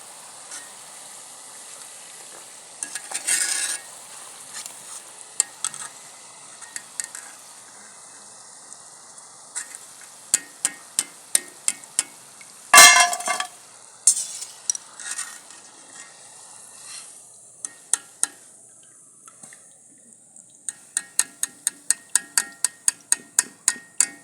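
Namak para dough pieces fry in hot oil in a village kitchen, a soft steady sizzle broken by repeated sharp clicks and scrapes of a stirring utensil against the pan, with no talk.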